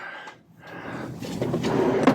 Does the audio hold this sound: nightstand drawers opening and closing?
yes